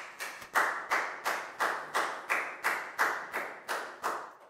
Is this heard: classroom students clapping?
yes